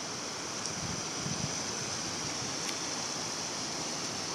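Euclid Creek running through snowy winter woods: a steady, broad rush of flowing water fills the whole stretch evenly and close, with no voices and only a couple of faint ticks over the continuous wash.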